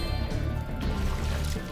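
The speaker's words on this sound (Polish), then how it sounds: "No i chyba pora nalać tą wodę." Water filling in the video game Spyro 2: Ripto's Rage, a short bubbling, gurgling liquid pour set against the game's background music.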